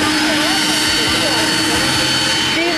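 A Korean Air jet airliner on its takeoff roll at Atlanta airport, a loud, steady engine roar with whining tones heard from nearby, with people talking over it.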